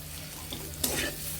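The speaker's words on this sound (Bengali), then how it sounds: "এখন ভালোভাবে কষিয়ে নিতে হবে" Fish and spices sautéing in a pan for a spinach pithali dish, a steady soft sizzle with a brief scrape of stirring partway through, close and fairly quiet, no voices.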